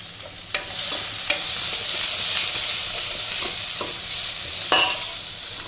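Chopped onion and green garlic hit hot oil in a pan for restaurant-style Manchow soup, giving a steady sizzling hiss with a few sharp stirring clinks and scrapes throughout.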